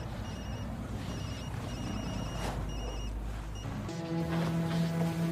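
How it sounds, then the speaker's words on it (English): A disposable cell phone rings with short electronic trills repeating in a steady pattern over faint room noise, followed by a sustained buzzing tone near the end, with no talking. "It's a cell phone."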